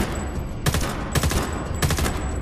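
Gunfire in the shooter game Homefront: The Revolution, three loud bursts of rapid shots about half a second apart over a dense game background.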